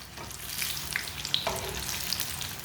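Carrot kebabs fry in a pan with a soft, steady sizzle and a few sharp spits and pops. The sound is close but fairly quiet, with no talking.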